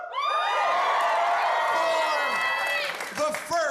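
Live studio crowd in Los Angeles cheering, whooping and clapping, a loud dense roar that swells at once and fades near the end, with a voice briefly over it.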